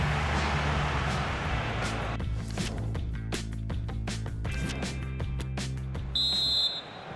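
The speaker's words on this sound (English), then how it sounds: "the whistle is sounded for half-time" A referee blows a short whistle for half-time in the FIFA 23 football game, during a Real Madrid vs Paris Saint-Germain Champions League final, set over stadium crowd noise and game effects.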